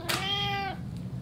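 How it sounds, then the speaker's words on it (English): A pet cat gives a single clear, drawn-out meow close by, with faint room noise around it and no talking. "Time for your moment with Mojo. Meow."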